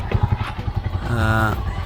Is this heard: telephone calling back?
no